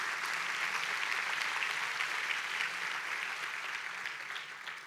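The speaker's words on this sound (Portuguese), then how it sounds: "Você pode aplaudir a Deus por isso?" A church congregation applauds in worship, a steady, full wash of many hands clapping that holds evenly and tapers slightly toward the end, with no voices over it.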